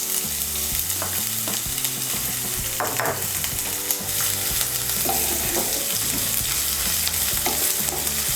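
Chopped onion frying in a pan, steady close sizzle with stirring scrapes and clinks over a low repeating background tune, no voices.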